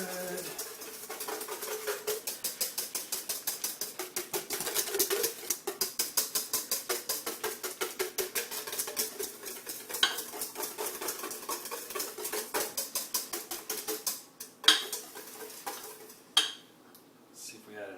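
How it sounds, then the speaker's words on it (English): A whisk beating salt, pepper and cayenne into sweet cream hollandaise sauce, with fast, steady metallic clicking against a bowl. It goes on close and continuous, then breaks into a few louder taps near the end. "is to whisk in our spices. And it's salt, pepper, and cayenne. Whisk it in real good."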